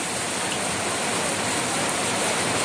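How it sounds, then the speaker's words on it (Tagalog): Heavy rain pouring steadily in a spell of bad weather around a house, a dense, even hiss with no voices, loud and unbroken for the whole stretch. "Umuulan lagi ng malakas."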